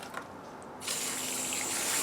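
Muddy water poured off a bucket of settled backyard clay soil; after a quiet start, a steady rushing pour begins and continues to the end, close and fairly loud, with no voices.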